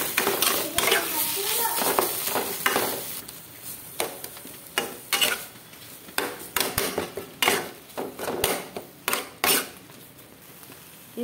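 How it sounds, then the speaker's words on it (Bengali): A utensil stirs mashed ridge gourd paste fried in mustard oil with black cumin in a pan, scraping and clinking irregularly over a soft sizzle, the strokes growing sharper and more frequent toward the end. "তারপর ঝিঙে বাটাটাকে দিয়ে নাড়াচাড়া করতে হবে, নেড়ে নেড়ে"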